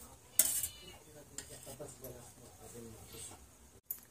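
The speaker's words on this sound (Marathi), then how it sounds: "आता ह्यात आपल्याला 7 ते 8 चमचे हे तेलाचे घालायचे आहेत" Spoonfuls of oil go into a hot kadhai for a drumstick (shevga) curry, with metal spoon clinks and scrapes against the pan, close and soft, a bright clatter near the start, while someone talks throughout.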